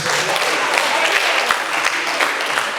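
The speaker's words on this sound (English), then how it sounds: "A round of applause for him, please." Steady audience applause at a reunion ceremony runs throughout the short stretch, a dense wash of clapping with a few sharper claps standing out.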